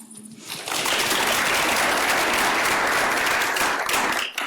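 An audience at a health innovation panel bursts into applause after a speaker, rising quickly from quiet to a steady, full clapping that holds before tapering at the end.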